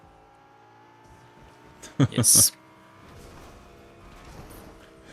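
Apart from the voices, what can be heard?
car driving in a video game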